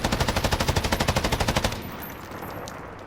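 An M249 SAW machine gun in Call of Duty Modern Warfare fires one rapid, even burst of about twenty close, loud rounds, then cuts off into a fading ringing tail.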